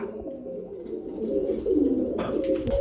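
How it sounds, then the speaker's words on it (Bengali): Pigeons cooing on a pigeon farm, close, soft repeated throaty coos swelling and overlapping, with a brief rustle near the end. "এই ধরনের কবুতর কিন্তু পাওয়া যায় না"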